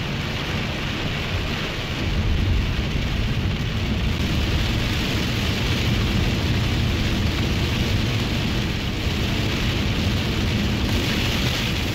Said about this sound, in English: Heaviest rain we've seen all day today.